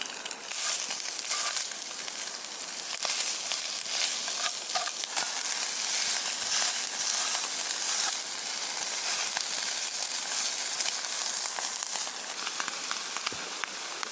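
Sausage sizzling in a pan on a Firebox hex camp stove at a stormy high-altitude campsite, a steady dense crackling hiss with scattered pops, close and continuous without any talk.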